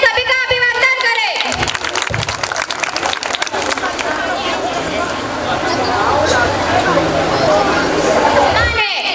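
Audience applause welcoming guests at a community gathering. Dense, loud clapping and crowd noise swell after a voice speaks at the start and build toward the end, where a voice is heard again.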